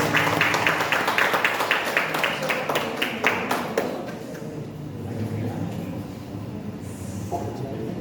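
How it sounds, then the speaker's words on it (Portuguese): Church congregation applauding to welcome pastor Solange, brisk clapping for about four seconds that tails off into reverberant room noise with some voices. "Uma linda salva de palmas."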